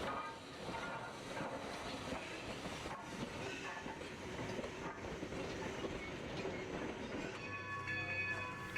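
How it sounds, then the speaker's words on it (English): Locomotive number 40 moving slowly past a building with the Steptoe Valley Flyer train set in tow at a Nevada copper mining town, a steady rumble of wheels and cars with faint clanking and a brief ringing tone near the end. "number 40 eases past the RIP building with the Steptoe Valley Flyer train set"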